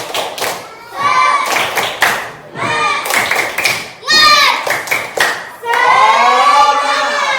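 A fifth-grade class chants a rhythmic spirit clapping routine in unison, sharp hand claps punctuating loud, sung-out children's voices in a lively, patterned beat.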